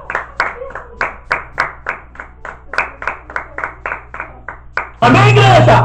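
A church congregation claps in steady rhythm, about two to three even beats per second for several seconds, close and clear, before a sudden loud burst of voices and sound swells in at the end.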